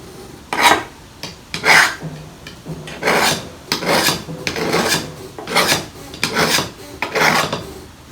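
A hand file rasps along the edge of a garden tool being sharpened, in about a dozen loud rhythmic scraping strokes, close and steady with brief pauses between passes.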